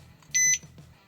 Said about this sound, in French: vous avez entendu le bip